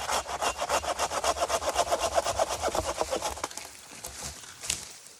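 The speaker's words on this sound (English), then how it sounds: "So I'm just cutting up some deadfall and stuff that" A hand saw rasps steadily through deadfall wood in quick, even back-and-forth strokes, then the cutting stops and a few faint knocks follow.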